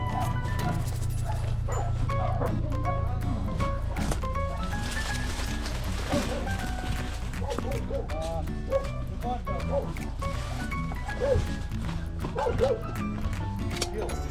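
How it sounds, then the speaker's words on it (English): A street dog barks with short yips and whimpers amid a busy outdoor scene, the barking mixed under steady low rumble and people talking. "That's a street dog."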